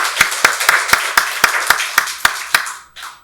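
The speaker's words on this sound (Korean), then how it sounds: "박수로 하나님께 영광 돌리겠습니다" A Sunday worship congregation claps in unison, a series of about eleven crisp, evenly spaced claps in a steady rhythm, close and distinct, ending abruptly.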